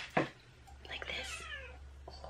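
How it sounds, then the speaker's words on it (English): A house cat meows once with a rising-falling tone, fairly close, against a steady low hum and a brief knock before it. "I'm gonna go because the cat is meowing at me."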